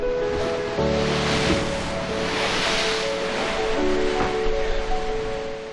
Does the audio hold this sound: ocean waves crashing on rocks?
yes